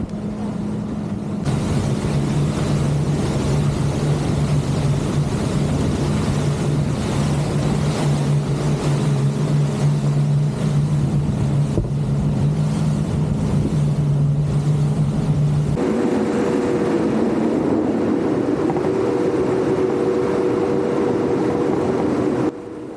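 A Boston Whaler 280 Outrage motorboat engine drones loudly and continuously over rushing water, the pitch shifting partway through as the boat changes speed.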